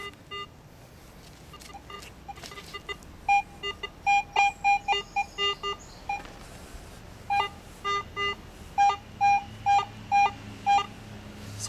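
A metal detector sounds over a buried target: repeated short electronic tones ringing in quick bursts, near and clear over faint outdoor background.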